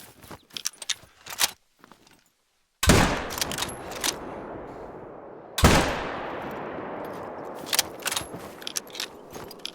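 Rifle fired in quick succession while hunting, with two loud, sharp shots a few seconds apart, each followed by a ringing decay, amid scattered clicks and handling noises of the reload.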